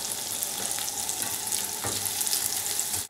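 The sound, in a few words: chorizo frying in oil in a frying pan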